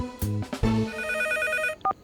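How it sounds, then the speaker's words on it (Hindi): A cartoon telephone rings late at night, a few bright electronic trill bursts followed by a sustained ringing tone, close and clear, with no talking. "इतनी रात को कौन फोन कर रहा है मुझे?"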